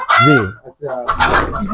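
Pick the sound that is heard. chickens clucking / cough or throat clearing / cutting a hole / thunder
chickens clucking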